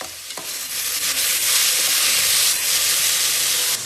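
Mushrooms cook in a pan for a pulao, a loud, close, continuous sizzle and steamy hiss with a stirring scrape near the start and no talking.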